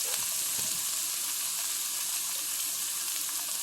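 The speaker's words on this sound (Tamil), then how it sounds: "வெந்தயம் வறுந்துச்சு பாருங்கள். வெங்காயம் நல்லா வதங்கட்டும்." Onions and fenugreek seeds fry in a pan for a fish curry, a steady hissing sizzle with a few faint stirring taps early on.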